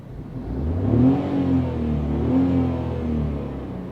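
A 2022 Tata Tiago iCNG running in petrol mode hums steadily from inside the cabin, its engine note rising gently, easing, then swelling again in a smooth, moderate drone.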